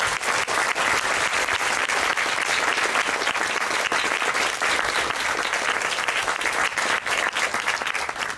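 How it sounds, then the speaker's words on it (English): At an Army retirement ceremony for Maj. Gen. David B. Lacquement, a large audience gives sustained, loud applause, a dense and even wash of clapping that continues throughout. "Let's give them a big round of applause."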